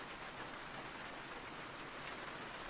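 Steady, dense rain falls as a sound effect in an audio drama about endless apocalyptic rain, a constant even hiss without breaks.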